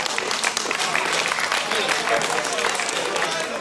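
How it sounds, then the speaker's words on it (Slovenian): Applause from a crowd at a football marathon event, a dense steady patter of many hands clapping with voices mixed in throughout. "Dajmo en velik aplavz sami sebi"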